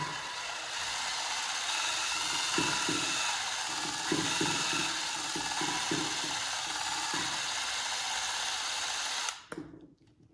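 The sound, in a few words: power drill cleaning cylinder head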